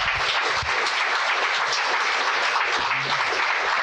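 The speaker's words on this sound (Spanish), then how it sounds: "¿Y ese aplauso?" A church congregation applauds after a closing prayer, producing a steady, dense wash of many hands clapping at once. The clapping is sustained and even throughout, with no voices heard above it.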